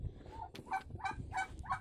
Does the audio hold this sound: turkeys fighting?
yes